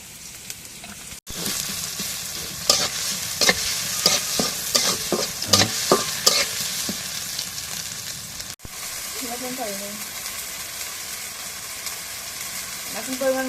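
Chopped onions sizzle and fry in a pan while a spoon scrapes and stirs them in repeated strokes, close and steady, with a brief pause and a faint tonal sound partway through.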